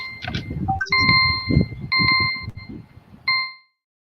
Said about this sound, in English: Just about the time that the bell rang